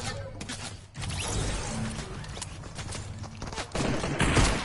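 SMG fire in a video game, a steady rattle of rapid shots running almost continuously and growing louder toward the end, mixed with other game noise.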